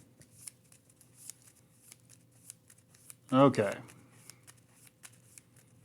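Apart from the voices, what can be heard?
shuffling cards for Marvel Champions card game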